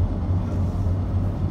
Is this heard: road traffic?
yes